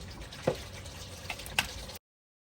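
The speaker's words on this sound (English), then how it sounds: "And then let the oil drain out." Motor oil draining from a 2017 Jeep Wrangler during an oil change, a faint, steady liquid trickle with a couple of brief splashes or drips, heard close and alone.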